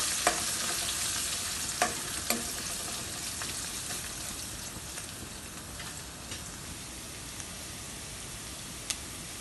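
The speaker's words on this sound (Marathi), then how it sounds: "आता हे सर्व साहित्य छान प्रकारे मिक्स करून घेऊया." Tomato soup ingredients with curry leaves are stirred in a hot pan, giving a steady soft sizzle with occasional sharp scrape or clink accents, alone with no voices.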